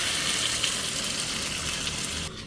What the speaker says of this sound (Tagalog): Buhos na rin natin ang ating sauce.